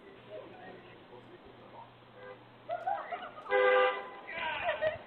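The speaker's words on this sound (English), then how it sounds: "Honking horns, of course." Car horns toot a few times on a residential street, short bursts rising out of background noise with a louder sustained honk near the end.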